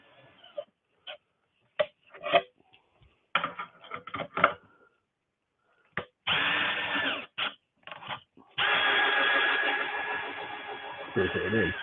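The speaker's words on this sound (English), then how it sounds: "So, drill." A power drill whirs in short bursts, stopping and starting several times before two longer sustained runs near the end.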